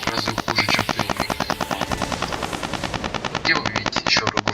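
A helicopter boss fight in Metal Gear Rising plays as a steady rapid rotor chop mixed with bursts of machine-gun fire, continuous and fairly loud throughout.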